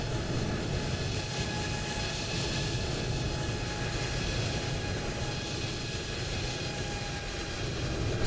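Simulated airliner landing at Hong Kong in Microsoft Flight Simulator 2020: a steady, moderately loud broadband engine and rollout roar with faint high tonal whine, continuous and unchanging, with no talking.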